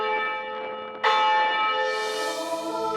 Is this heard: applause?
no